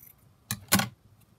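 Scissors snipping through fabric scraps for a vintage postage stamp craft, two quick crisp cuts close by, one short and one slightly longer, in an otherwise quiet room.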